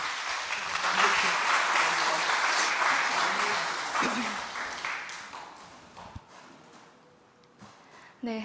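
A church congregation at an early-morning Wednesday service applauds warmly for several seconds, then the clapping fades into a quieter room with scattered small clicks and shuffles.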